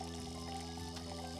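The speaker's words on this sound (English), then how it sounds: "pour ingredients into the container using the button and fill up to the line" Pouring an ingredient into a container in the Cooking Mama Cookstar 2 video game, a short continuous liquid pour effect over a steady tonal music bed.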